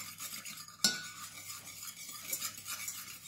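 A utensil stirs and scrapes through a lemon mousse mixture in a bowl, soft repeated swishing with one sharp clink against the side, close and quiet.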